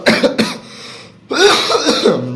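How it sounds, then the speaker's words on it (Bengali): A person with a sore, hoarse throat coughs sharply twice at close range, pauses, then breaks into a longer rough cough and throat clearing. "কাশি শুরু হয়ে গেছে"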